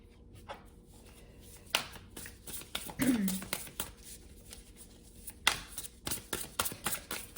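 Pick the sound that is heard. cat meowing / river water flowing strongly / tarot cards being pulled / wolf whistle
tarot cards being pulled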